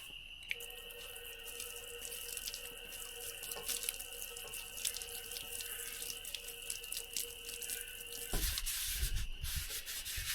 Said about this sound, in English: here is where this pressurized sprayer with the comb brew keg comes in handy